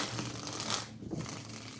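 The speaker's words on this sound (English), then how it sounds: "Shuffling." A deck of tarot cards shuffled close by, a quick burst of riffling card flutter that rises, breaks off in a brief pause, then resumes more softly.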